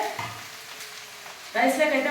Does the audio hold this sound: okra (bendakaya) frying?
yes